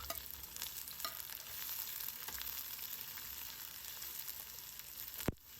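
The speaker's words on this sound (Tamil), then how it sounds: "இதையும் நல்லா வதக்கி விட்டுக்கலாம்" Finely chopped onions and curry leaves sizzle in oil for an eggplant thokku, a steady close frying hiss with occasional clicks of stirring and a sharp clank near the end.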